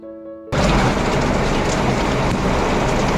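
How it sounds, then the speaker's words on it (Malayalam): Heavy rain pours with wind, a dense, loud, steady roar that starts abruptly after a quiet opening and continues unbroken, close by with no voices. "മഴ തകർത്ത് തിമിർത്ത് പെയ്യുക കേട്ടോ. ഈ കാറ്റുമുണ്ട്."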